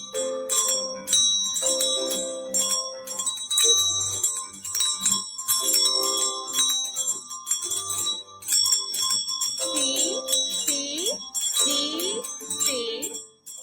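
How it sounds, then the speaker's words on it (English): First graders playing desktop bells in a classroom, a bright run of clear ringing tones struck one after another in a loose melody, some notes overlapping and lingering, close and fairly loud. "Those are my little first graders there playing along on those desktop bells."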